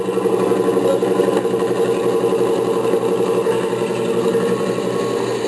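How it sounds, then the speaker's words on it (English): A two-wheel-drive crew cab truck engine with a vacuum leak idles at a fairly high, even pitch, running continuously up close with a faint rhythmic clatter and no talking. "Idling high, maybe it's a vacuum leak."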